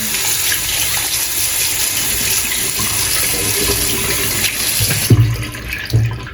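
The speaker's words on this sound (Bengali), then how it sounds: "একটু পানি দিয়ে রাখি একটু" Steady rush of water running from a tap, continuous and close, ending with a couple of knocks and splashes.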